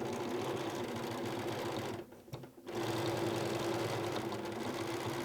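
A sewing machine runs steadily while stitching quilt binding, with a continuous motor hum and needle rhythm that briefly slows and pauses partway through before resuming at full speed.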